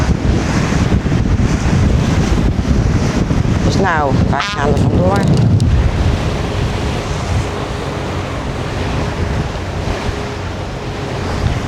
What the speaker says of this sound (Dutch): Behoorlijke woei, windkracht 5.